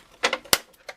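Scissors snip through old-fashioned plastic cable ties on a Friday the 13th Part 7 Jason Voorhees action figure's packaging, giving a few short, sharp, close clicks and snaps with one crisp louder cut in the middle, and no voices.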